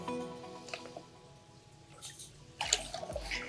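Water washing gold paydirt around a gold pan, with soft faint sloshing and drips at first, then a louder burst of splashing and swirling near the end.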